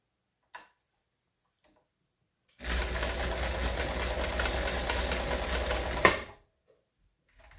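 A Kenmore 158 950 sewing machine runs a long stitch through fabric in one steady, even mechanical whir for about four seconds, with a sharp click at the start and stop and quiet moments around it.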